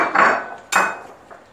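Two sharp ceramic clinks, a brief clatter and a second louder one, with a faint third tap, close by in a quiet room.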